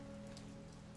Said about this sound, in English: The rain poured down, heavier than ever before